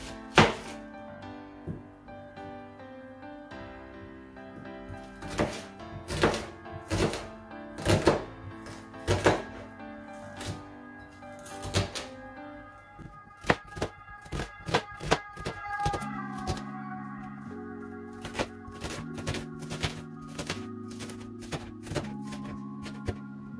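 Onion chopped with a knife on a cutting board, a long run of crisp, close knocks, irregular at first and then quicker and more even, under soft background music without talking.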